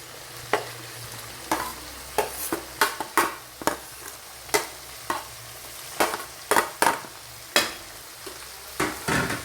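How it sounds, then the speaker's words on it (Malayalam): Four or five dried red chillies and a handful of curry leaves sizzle in hot oil in a pan for beef fry. A steady crackle runs underneath, punctuated by about twenty sharp, close scrapes of a spatula at an uneven rhythm, with no talking. "അത് ഒരു 4-5 ഉണക്കമുളക്, കുറച്ച് കറിവേപ്പില, ഇത് ഇതിനകത്തോട്ട് ഇട്ട് കൊടുക്കാം."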